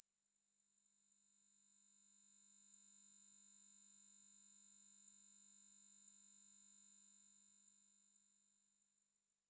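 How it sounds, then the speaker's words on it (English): A single steady high-pitched 8 kHz triangle-wave tone, pure and piercing, fading in gently and fading out at the end with nothing else audible. "my tinnitus particularly is the 8 kilohertz triangle wave"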